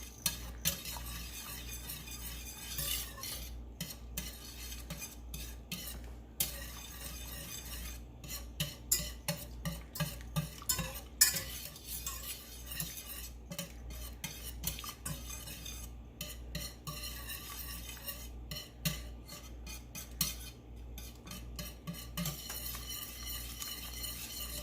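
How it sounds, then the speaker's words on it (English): A whisk stirring cream cheese into cauliflower in a pan, a quiet, steady clinking and scraping that repeats rapidly throughout, with a faint sizzle beneath. "Now I'm going to whisk this until the cream cheese is completely melted."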